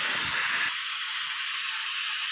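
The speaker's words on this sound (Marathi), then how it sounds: "कुकर गरम असताना त्याची वाफ काढून" A hot pressure cooker of vegetable pulao vents steam in a continuous, loud, close hiss, with a low rumble fading out in the first moment and the hiss then running on alone.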